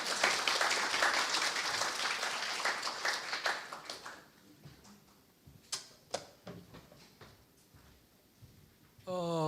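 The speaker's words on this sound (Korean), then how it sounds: "뜨거운 박수로 모시겠습니다" A hall audience at a civic forum on the May 18 Gwangju uprising gives warm applause for a professor delivering the keynote, a dense burst of clapping that thins into a few scattered claps and room noise before quiet.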